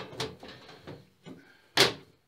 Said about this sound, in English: the door don't quite open all the way